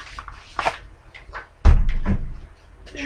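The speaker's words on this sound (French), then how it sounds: "C'est la porte de la pièce qui grince comme ça." The old door of a room creaks and thuds as it moves, with a few soft knocks and a louder bump partway through, close by and unaccompanied by talk.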